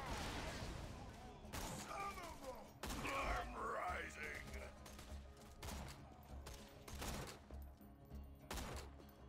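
Rapid gunfire bursts from Borderlands 2 in a shooting sequence, repeated loud volleys and sharp cracks with brief pauses, continuing throughout under occasional voices.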